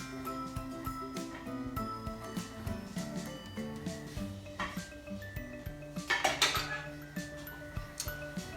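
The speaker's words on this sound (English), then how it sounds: "I'm going to get my pot off the stove" A soup pot, Hippocrates soup simmered for two hours, is lifted off the stove with soft metallic clinks and knocks of cookware, faint and scattered over a quiet kitchen background.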